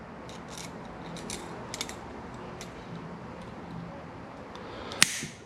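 A single sharp snap of cutters biting through a coil of the slide spring from a Mikuni BSR 36 carburetor on a DRZ400, faint at first over quiet room noise, then one brief crisp click near the end.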